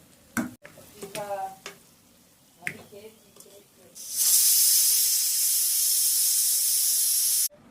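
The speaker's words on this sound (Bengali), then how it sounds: "এবার আমি প্রেসার কুকারে এটাকে নিয়ে সিটি মেরে নেব।" Pressure cooker whistling and hissing steam while cooking mutton kasha: a loud, continuous high hiss bursts in after several short kitchen clatters and sounds, holds steady for about three seconds, then cuts off.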